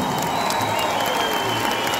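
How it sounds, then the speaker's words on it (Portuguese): A crowd at a concert celebrating a singer's 30-year career gives a round of applause, a dense wash of clapping with some cheering, loud and continuous over a short stretch. "uma forte salva de palmas de todos nós"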